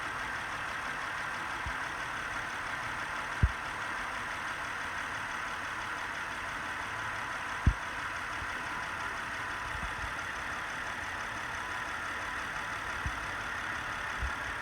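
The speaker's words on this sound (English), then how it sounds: "crank it up, let it run for a little while" A 2011 Honda Pilot engine idles steadily with a constant low hum throughout, broken by a few faint clicks and taps.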